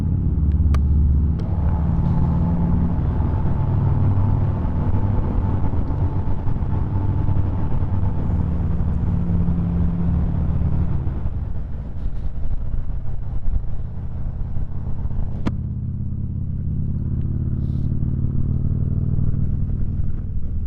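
A 124 cruising on a highway in light sleet, with a steady, loud engine drone and road rumble that continues throughout and no voices.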